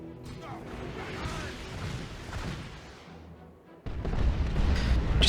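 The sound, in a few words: tank busters blowing up a generator, Dawn of War 2 video game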